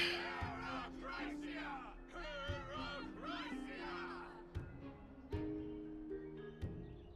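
A crowd of Council of Elders members cheering in the Honkai Star Rail video game: layered excited voices whooping and shouting for several seconds, loud and close, ending with a few sharp dramatic hits.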